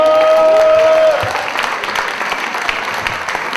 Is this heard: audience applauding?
yes